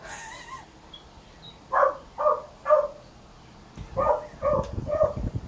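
A dog barks nearby in two bursts: three evenly spaced barks, a short pause, then four quicker ones.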